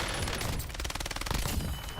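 Rapid SMG gunfire from the Warzone video game, a dense, continuous burst of shots rattling steadily through about two seconds with no voices.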